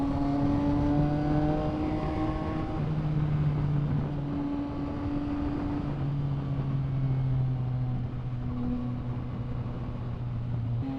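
A Yamaha MT-09 SP motorcycle engine revving through gears, its exhaust tone rising and dropping with a whip-like crack at each upshift, loud and close throughout.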